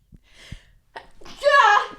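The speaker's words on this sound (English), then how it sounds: "I have to sneeze." A single person sneezes: a couple of short catching breaths, then one loud, close, explosive sneeze, with no other sound around it.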